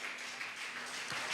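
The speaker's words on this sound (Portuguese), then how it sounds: "Aplauda a Jesus com entusiasmo" A church congregation claps together during a worship service, a steady, soft wash of applause heard from a distance with no voices standing out.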